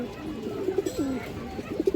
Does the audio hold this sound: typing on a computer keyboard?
no